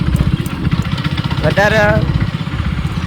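Motorcycle engine droning steadily while riding on a road through a crowded stretch, a rhythmic low putter throughout with someone talking over it.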